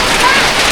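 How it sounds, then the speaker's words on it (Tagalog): Heavy rain in the Philippines, during rising floodwater, pouring as a loud dense hiss that stays steady and close throughout, with speech faintly underneath. "Oh my God, ang ulan."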